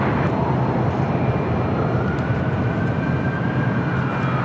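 Jet airliner taking off at LAX, a loud steady roar of engines filling the whole stretch without pause.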